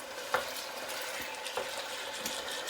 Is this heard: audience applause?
no